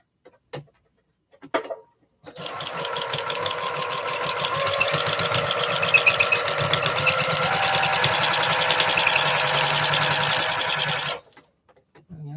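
A sewing machine runs a quarter-inch seam on quilt star pieces, giving one continuous, steady whirring stitch of about nine seconds, close and alone, framed by a few brief handling clicks before and after.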